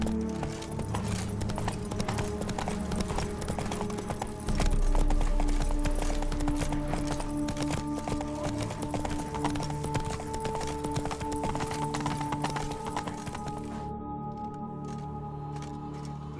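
Roach, a horse in The Witcher 3, gallops in a steady, continuous clip-clop of hooves, close and clear over a bed of game music, with no talk.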